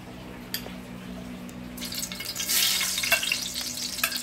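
Tomato, onion and garlic hit hot oil in a pan for a Mexican seafood soup, bursting into a bright crackling sizzle after a few faint clinks.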